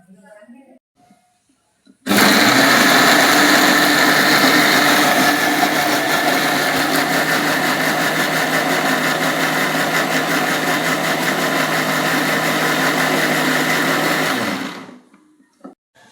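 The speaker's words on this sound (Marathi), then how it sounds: "आणि हे सर्व मिक्सरमध्ये बारीक करू" An electric mixer grinder grinding roasted spices and ingredients starts abruptly and runs loud and steady with a high whine for about twelve seconds, then winds down to quiet.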